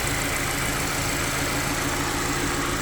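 A 2020 Subaru Forester's 2.5-litre four-cylinder engine idles steadily, a continuous close mechanical hum with a faint knock, heard alone without voices.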